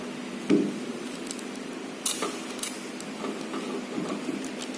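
A small printer on a car battery tester prints battery test results during a Suzuki Ertiga service. It makes soft, intermittent mechanical clicks and short buzzing bursts over quiet room background.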